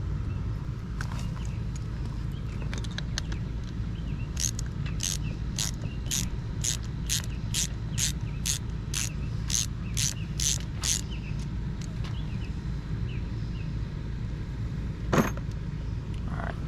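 A ratchet with a deep well socket clicks through a quick run of sharp, evenly spaced ratcheting strokes while removing a starter stud from an Evinrude 200 Vindicator outboard, heard up close against a low background hum.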